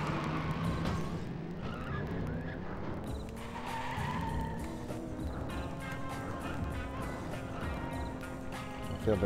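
A Ferrari races in the N64 game Cruis'n World, its engine droning with rising revs as the tires skid and squeal, loud and continuous.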